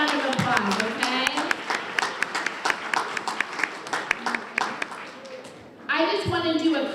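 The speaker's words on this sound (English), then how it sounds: "So give yourself a big round of applause, okay?" Guests at a volunteer recognition luncheon applaud, with sharp, fairly close clapping that fades out before a voice resumes speaking, and speech also heard at the start.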